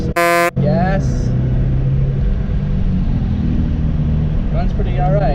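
A Saab 9-3 turbo engine is given some gas, its steady loud rumble running throughout, opening with a brief sharp buzzing tone before settling into a continuous drone.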